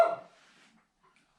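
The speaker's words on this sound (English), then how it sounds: "Wait for Obi to stop barking." A dog named Obi gives a single short, loud bark right at the start that quickly fades into silence, with a faint trailing whimper or murmur afterward.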